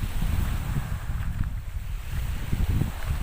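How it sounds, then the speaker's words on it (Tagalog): Strong northeast monsoon (amihan) wind buffets the microphone with a steady low roar, waves and water rumbling underneath, no voices. "Medyo malakas lang yung hangin dahil nga po amihan ngayon"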